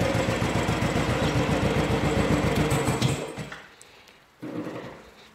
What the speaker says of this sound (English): The bike has been running for the last 5 minutes